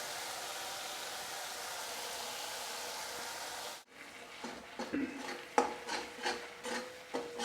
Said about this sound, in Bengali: এটা আমি ভালোভাবে আবারও কষিয়ে নিচ্ছি।